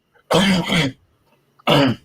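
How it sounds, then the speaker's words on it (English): A man coughs twice, two rough, loud barks close to the microphone, the first a double hack and the second a single burst after a short quiet pause. "I've got this cough"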